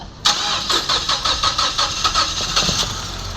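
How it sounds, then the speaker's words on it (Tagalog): A Mazda CX7 engine starts after a top overhaul and timing job, beginning with a run of rhythmic starter-cranking pulses that continue close by and fairly loud. "susubukan po natin kung aandar itong makina na to"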